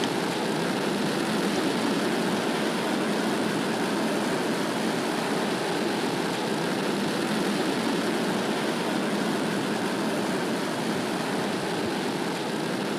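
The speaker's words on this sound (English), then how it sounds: "Relativity has liftoff from Launch Complex 39B at Cape Canaveral at Florida" Relativity rocket engines at liftoff from Launch Complex 39B at Cape Canaveral, Florida, a steady, dense, distant roar holding at constant loudness throughout, with no voices.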